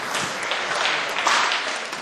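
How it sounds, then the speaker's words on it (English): A studio audience applauds with a dense, steady patter of clapping, brief and fairly loud throughout. "Round of applause for them"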